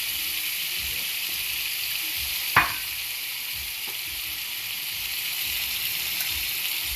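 Chicken sears in a hot pan for mini chicken tacos, a continuous close sizzle and hiss with one sharp clack partway through, no talking.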